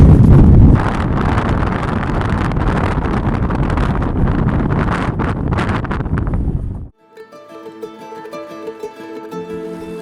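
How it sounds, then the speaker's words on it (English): Strong wind on an icy stretch of the Pacific Crest Trail buffets the microphone in a loud, continuous roar for several seconds, then cuts out abruptly, leaving quieter tonal sounds. "it's pretty windy"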